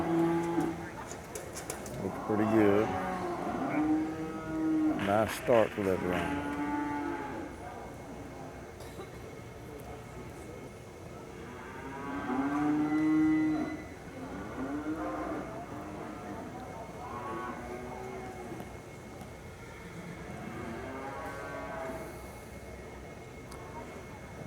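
Cattle in a herd at a cutting horse event give several long, loud moos, some close and overlapping, with quieter lowing between, while someone talks over them.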